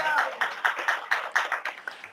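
Rhythmic group clapping from a church congregation, about ten evenly spaced claps over a couple of seconds, moderately close, with a voice faintly present at the start.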